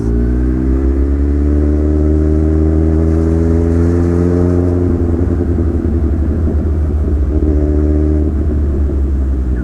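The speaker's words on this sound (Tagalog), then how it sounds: "mapainit na rin natin yung makina ni Bagyo" A Kawasaki Z1000 motorcycle idles while warming up, its engine giving a steady, loud, close rumble that runs unbroken throughout with no talk.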